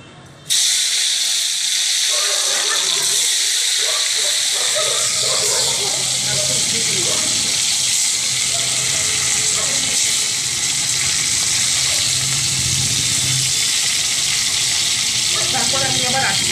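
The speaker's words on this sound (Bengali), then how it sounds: "তেলের মধ্যে আমি পুরো দমের আলুগুলো ভেজে নিলাম" Potatoes fry in hot oil in a wok, giving a loud, continuous close sizzle and hiss that starts abruptly and holds steady to the end, with a voice talking over it.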